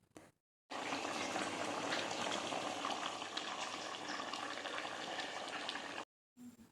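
Country chicken gravy with coconut milk, water and red chilli powder simmering in a pan, a dense continuous bubbling hiss that starts abruptly and runs steadily, close and fairly quiet, then cuts off.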